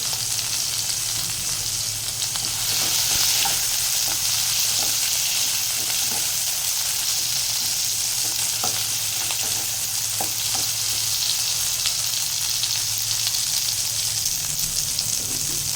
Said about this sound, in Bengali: টমেটো আর কাঁচা লঙ্কাটা এখানে ভালোভাবে ফ্রাই হয়ে গেছে